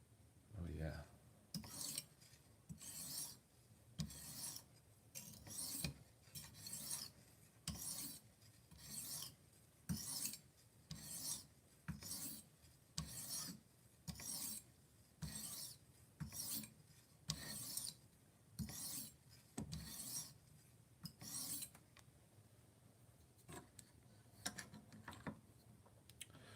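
A kitchen knife is sharpened with steady, evenly spaced rasping strokes, roughly twenty of them in a regular back-and-forth rhythm, close and clear, with no talking.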